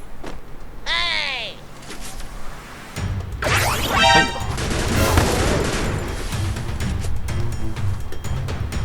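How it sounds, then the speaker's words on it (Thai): Bursts of M60 machine gun fire in a shooting video game, rapid rounds from a seated firing position crackling loudly across the clip after a short electronic tone. "M60 นั่งยิง ถ้ายิงเยอะๆกระสุนมันออกตลอดนะครับ"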